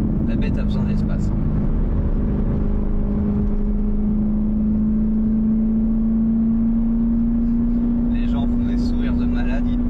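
A Corvette C7 ZR1 accelerating on the road, its engine droning steadily and rising slowly in pitch from inside the cabin while someone talks over it.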